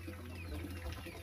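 Soft clucking of chickens in a noisy outdoor setting, low and continuous with faint bird calls above, no talking.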